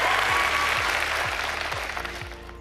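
An audience at a women's business awards ceremony applauds a gold winner, dense clapping filling the room over a pulsing music beat, strong at first and then fading slightly toward the end.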